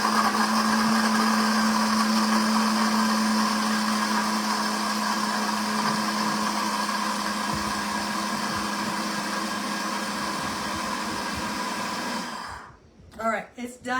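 A kitchen blender runs continuously on its pulse setting while chopping cheese, a loud steady motor whir with a humming tone that cuts off abruptly near the end, followed by a few soft breaths.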